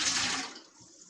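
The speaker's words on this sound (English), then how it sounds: "We are simply going to add the rest of our ingredients back into our pan. So that includes 2 cups of fresh apple juice" Fresh apple juice poured into a cooking pan, a brief liquid splash and trickle that starts full and tapers off quickly over about a second.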